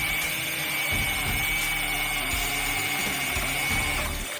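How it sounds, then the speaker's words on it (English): A power drill whines steadily and close up, drilling out a broken bolt in a Miata, grinding through metal with small shifts in pitch and no talking. "we carefully drilled out the body of the bolt"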